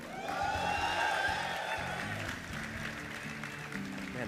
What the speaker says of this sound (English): Man, the crowd is killing it today.